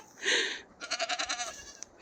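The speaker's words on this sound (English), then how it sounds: "have very noisy goats." Kiko goats bleat in a barn: one drawn-out bleat followed by a quick, wavering series of bleats, fairly close and alone.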